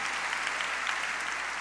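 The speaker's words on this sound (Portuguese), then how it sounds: "Quantos aplaudem a Jesus pela Assembleia de Deus?" A church congregation at an Assembleia de Deus service claps in a dense, even wash of applause, steady and moderately loud throughout the short burst, with no voices on top.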